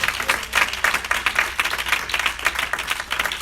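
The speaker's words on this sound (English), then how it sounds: "Clap your hands again." Congregation clapping hands together during a church Bible study, a dense, steady run of rhythmic claps filling the room with no voices over it.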